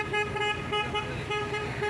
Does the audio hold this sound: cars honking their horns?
yes